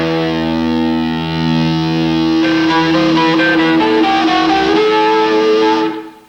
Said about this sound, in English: hear the top notes get very strangled, that horrible sort of gurgling sound